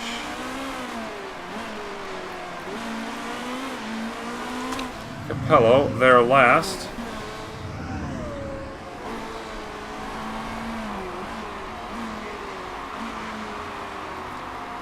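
Race cars cross the finish line in Motorsport Manager, their engines humming along steadily before one car revs and roars past loudly mid-way, while a commentator talks over it.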